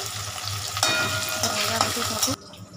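Onions frying in a pan for chicken curry, stirred with steady scraping and a bright continuous sizzle up close, the sound cutting off sharply near the end.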